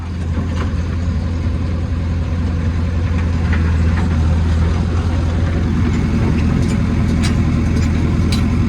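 A remote-control toy JCB runs with a steady, continuous low motor drone, with faint scattered clicks and rattles over the top and no voices.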